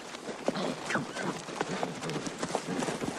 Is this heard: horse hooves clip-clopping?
yes